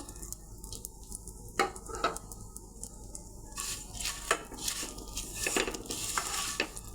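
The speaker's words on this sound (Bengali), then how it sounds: "সেমাইগুলো একটু ভেজে নেব।" Vermicelli fry in a pan with bay leaf and garam masala for zarda semai, giving a soft, steady sizzle broken by the clicks and scrapes of a spoon stirring, heard fairly faintly with no talking.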